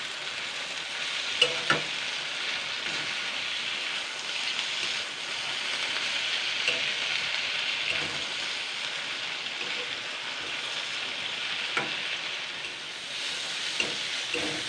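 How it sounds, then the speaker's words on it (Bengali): Drumstick leaves frying in a pan for a Bengali sojne shak dish with potatoes, an even, hissing sizzle close up, punctuated by occasional spatula scrapes and knocks, no talking. "সজনে পাতাটা ভালো করে ভেজে নিয়েছি"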